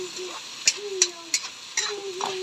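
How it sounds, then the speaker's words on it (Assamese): Potatoes fry in a pan on a home stove, giving a steady sizzle. Four or five sharp scraping clicks of a utensil stirring them cut through it at regular intervals. "এতিয়া আলু দি অলপ ভজা হ'ল"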